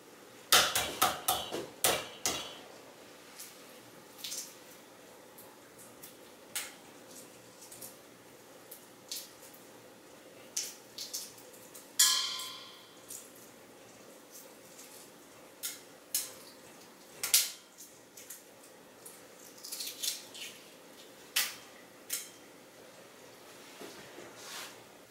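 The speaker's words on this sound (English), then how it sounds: "Okay, time to peel eggs." Boiled eggs are cracked and peeled for pickling, with a batch of about 60. Sharp taps and cracks come in a dense cluster at the start, then scattered clicks, squishes and knocks follow at irregular intervals nearby.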